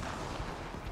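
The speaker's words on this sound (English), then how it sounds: "It exploded." A short, loud burst of explosion noise from the Mass Effect Andromeda video game, with a dense, rumbling crackle that fills the whole second.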